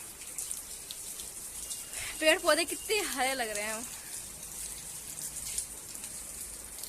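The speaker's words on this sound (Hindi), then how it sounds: "बारिश हो रही है रिम झिम" Light drizzling rain falls steadily outdoors among green trees and plants, a soft continuous patter throughout, while a person speaks briefly over it in the middle.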